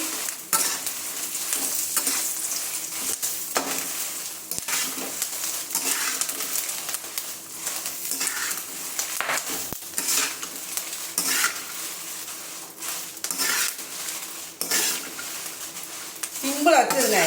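Dried vathal is sautéed in masala in a pan, with a steady close sizzle and repeated spoon scraping and stirring against the metal throughout.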